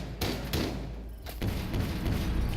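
Pistol shots fired in Rainbow Six Siege gameplay, a few loud booming bursts spread across the moment with no talk.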